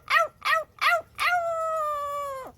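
A pet parrot imitates a dog howling, with three short yelping notes followed by one long, sustained, slowly falling howl, close and clear with no talking.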